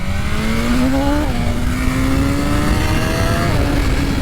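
A motorcycle engine held at full throttle revs with a rising, strained tone, stalling briefly in a flat spot before climbing again; loud, close and continuous with no talk over it.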